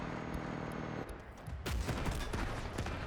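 Tank cannon fire and heavy gunfire roar in the Delta Force video game as a tank rams an opponent and shoots point blank, with dense, loud bursts and booms and a sharp surge of impact noise partway through.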